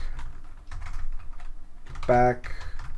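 Fingers type on a computer keyboard, a run of quick, close clicks with a brief louder burst near the end, while a voice speaks faintly beneath.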